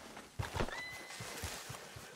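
A horse whinnies in Red Dead Redemption 2, a clear rising neigh followed by a few hoof clops at moderate loudness, with no talking.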